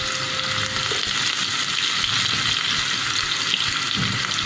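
Crushed garlic, green chilies and curry leaves fry in hot oil, a loud, dense, continuous sizzle and crackle heard up close with faint stirring and no speech.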